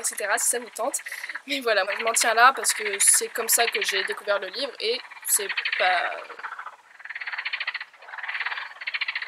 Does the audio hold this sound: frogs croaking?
yes